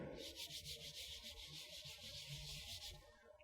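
Fingers rub back and forth across the rough matte back panel of a blue Samsung Galaxy A72 smartphone, a close, soft scratchy sanding sound in about a dozen quick, even strokes.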